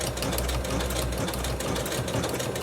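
A sewing machine sewing a lock stitch on ribbon makes a fast, even mechanical whirr with rapid needle ticking, steady and close throughout.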